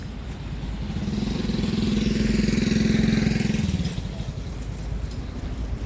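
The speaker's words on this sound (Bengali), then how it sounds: "মোটরসাইকেল আসছে কিন্তু" A motorcycle draws near on a quiet evening road, its engine hum swelling steadily to a loud peak, then fading as it passes.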